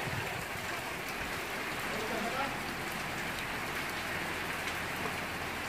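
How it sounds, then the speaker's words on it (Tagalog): Typhoon Quinta lashes Bataan outside a window under a signal number 2 warning: heavy rain hisses and patters steadily with a strong wind roar, loud and unbroken for the whole stretch. "ang lakas ng hangin at ulan"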